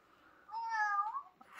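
A single drawn-out cat meow, close and clear, rising and falling over about a second, with a faint voice murmuring before it.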